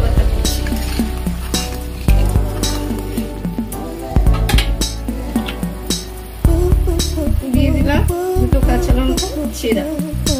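Fish curry gravy with chopped coriander bubbles and sizzles in a pan while being stirred, giving a loud, steady frying hiss broken by repeated clinks and scrapes of a spoon against the pot, with a tonal background throughout.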